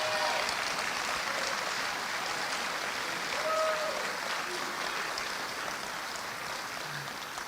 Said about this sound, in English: Let's give President Henry a round of applause